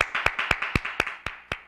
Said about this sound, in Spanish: me agarraron aplaudiendo porque estoy encantadísimo